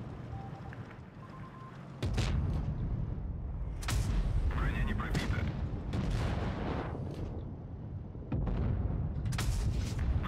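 Heavy tank cannon shots in World of Tanks Blitz, several loud booming blasts with rumbling tails spaced a couple of seconds apart over engine noise, with someone talking between them.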